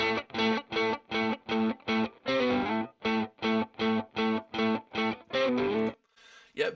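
Two distorted electric guitar tracks for a band demo play together, loud and steady, with rhythmic chugging chords and sustained strums over several bars before stopping abruptly.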